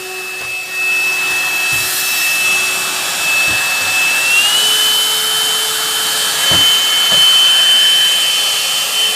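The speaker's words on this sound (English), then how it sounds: "MooSoo, Amazon Prime, cordless vacuum, 2-in-1" A MooSoo 2-in-1 cordless stick vacuum runs with a steady, close whine and airy hiss throughout, its pitch stepping up briefly midway, with a few light knocks and handling bumps along the way.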